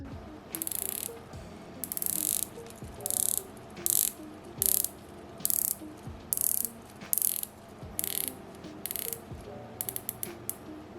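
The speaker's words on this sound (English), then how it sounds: "It's a unidirectional rotating bezel, 120 clicks." Unidirectional 120-click ceramic watch bezel being turned in short bursts, each a quick run of fine, close ratcheting clicks, repeated about a dozen times with brief pauses, quiet and stiff-sounding.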